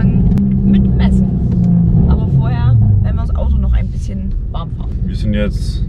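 Cabin of a Mercedes C63s AMG C205 while driving, a steady low engine drone and road rumble filling the car, with people talking over it throughout.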